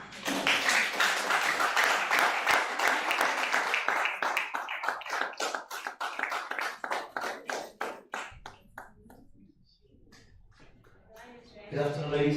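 An audience at an entrepreneurship event in Ilorin, Kwara State, breaks into dense applause that thins into scattered individual claps and fades out. A voice begins speaking at the end.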